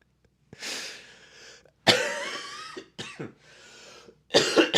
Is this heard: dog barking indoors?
no